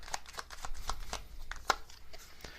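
A deck of tarot message cards being shuffled by hand, soft riffling flicks and taps in a quiet room, close and faint.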